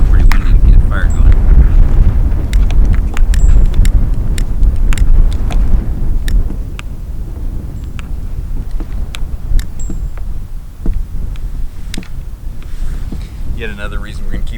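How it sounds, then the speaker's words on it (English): Strong gusts batter a campsite, a dense low roar of wind buffeting the microphone continuously, with scattered clicks and knocks on top and no speech. "Still pretty windy to get a fire going."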